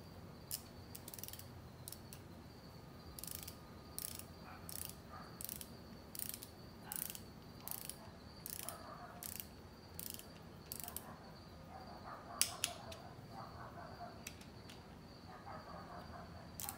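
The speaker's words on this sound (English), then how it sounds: "start tightening up till you tighten it, till you can torque them to 106 inch pounds" Ratchet wrench clicking in repeated short bursts while tightening bolts on a billet LS steam port crossover, the pawl ticking rapidly and fairly close, with brief pauses between each run of strokes.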